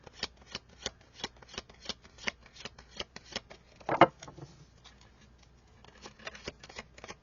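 Tarot cards shuffled by hand in a long run of quick, crisp riffling bursts, close and moderately loud, with one sharper slap of cards partway through and no voices.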